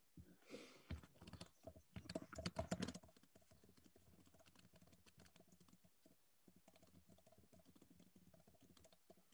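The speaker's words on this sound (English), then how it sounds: "Yeah, I'm typing now." Typing on a computer keyboard at a pre-match press conference, with rapid, close clicking that is busiest at first and then settles into quieter, irregular taps, with no voices.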